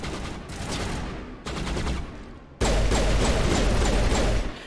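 Gunfire in the video game Mass Effect, heard as loud, rapid automatic bursts that stop and restart in three blocks, each louder than the last, with no talk over them.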